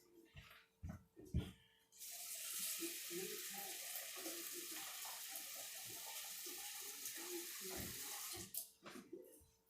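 Water from a tap pours into a pot holding steamed sauerkraut jars, a steady splashing rush with a few clinks and knocks before and after.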